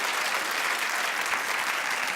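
A studio audience at a talk show claps in steady, dense applause that fills the whole moment without a break.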